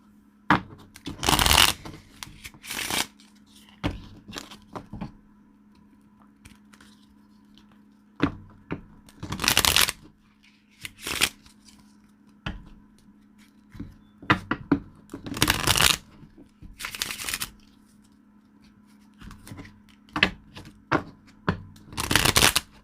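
Tarot cards shuffled by hand during a reading, in a series of brisk riffling bursts separated by short pauses, close and fairly loud with no talking.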